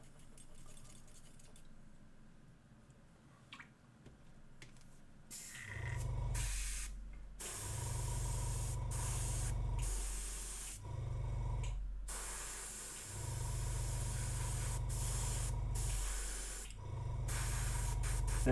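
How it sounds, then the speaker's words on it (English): An airbrush sprays grey and black paint onto a miniature in repeated hissing bursts, each a few seconds long, over a constant low compressor hum, all close and fairly loud. "I am just going to paint this guy in greys and blacks using the airbrush"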